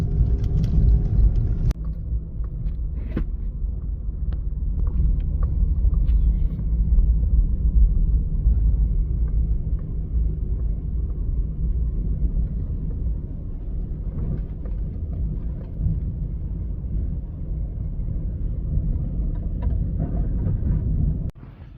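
An off-road vehicle churns slowly through deep ruts, its engine a steady low rumble close by for the full stretch, with occasional knocks and scrapes from underneath.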